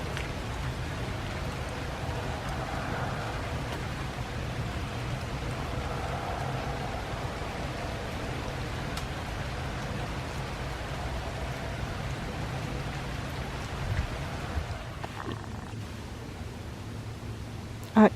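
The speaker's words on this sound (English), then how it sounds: "I just love the sound of rain." Steady rain falls on a garden on a late-October autumn day, a soft, even hiss of drops that carries on throughout with no voices.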